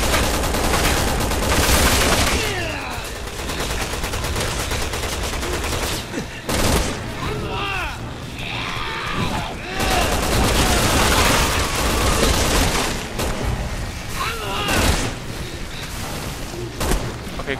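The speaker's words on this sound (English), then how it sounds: "quick shooting does not work here" Rapid, dense gunfire from the video game Resident Evil 6, loud and continuous, with bursts and booms piling up over the whole stretch and no pause.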